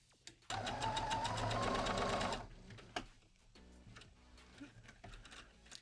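A domestic sewing machine runs in a loud, steady burst of about two seconds, then stops, leaving quieter clicks and handling noises while sewing a lace-up crop top.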